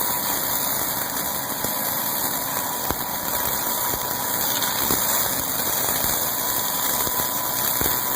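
A Fischer weeding machine engine idles steadily in a vineyard row after its brush head has shut off, a continuous close, even drone with a few faint clicks and no voices.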